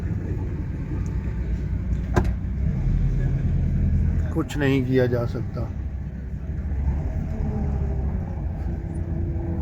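A car sits stuck in dense Tehran traffic, its cabin filled with a steady low engine and road rumble, a sharp knock and a brief horn-like tone in the middle, while someone talks throughout.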